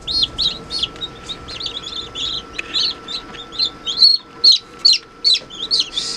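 Newly hatched chicks in an incubator peep in a rapid series of high, close, fairly loud calls, repeated steadily over a faint background hum, with no talking.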